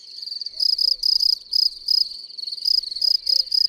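Male field crickets chirp in loud, rhythmic bursts of high, shrill trills that repeat steadily, close by, on a warm sandy fallow or forest clearing, with faint other sounds underneath.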